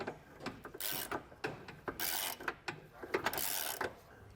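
Quiet ratcheting strokes come in a series of short bursts as a hand ratchet snugs up the hardware on a Roadmaster Direct-Connect base plate kit during a vehicle install.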